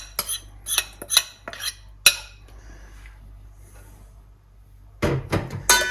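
Chopped tomatoes and vegetables for a Brazilian vinaigrette tipped into a bowl: a run of sharp utensil clinks against the bowl, a quiet pause, then a short rough scraping tumble of pieces.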